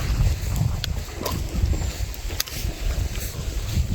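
Gusty wind buffeting the microphone on a rainy mountain ridge hike, a heavy low rumble that surges and drops continuously, with faint rustling and a few brief knocks on top.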